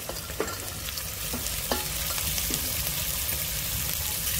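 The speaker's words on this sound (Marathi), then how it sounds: "तर आता आपण भाज्या घालूया। बटाटा, मटार, गाजर" Potatoes, peas and carrots stir-fry in a pan with a steady, close sizzle. A few sharp scrapes and clinks of stirring come early on, then the frying hiss carries on alone.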